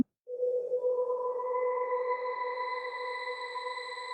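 A single sustained tone swells in and hangs with a long, bright, smooth tail as the reverb effect in Cubase 14 is turned up, clear and alone without any talking.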